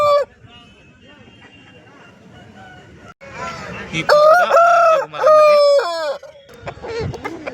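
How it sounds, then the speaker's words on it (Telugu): A rooster crows loudly nearby at a poultry market in Pileru, two drawn-out calls in succession, with some clucking and faint background noise around them. "మీరు చూస్తున్న ఈ 2 పుంజులు కూడా మన సురేష్ అన్నది."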